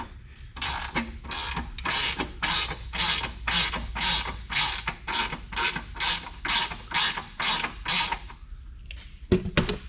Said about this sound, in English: ratchets make cool noise anyway